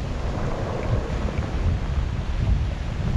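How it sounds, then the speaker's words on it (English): Heavy sea swell breaking on a UK beach at night, a steady low rumbling wash of surf mixed with wind noise on the microphone, continuous and moderately loud, no speech. "there's a pretty heavy swell tonight"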